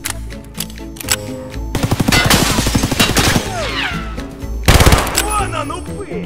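A PPSh submachine gun fires in Escape From Tarkov, with rapid close automatic bursts and a separate volley later, alongside game sounds and a voice between the shots.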